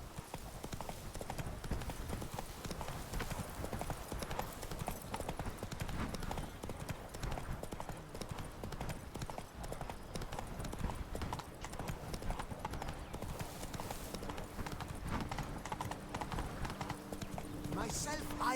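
Horse hooves clip-clopping in The Witcher 3: Blood and Wine, a brisk steady rhythm of hoofbeats throughout with game ambience and voices talking over it.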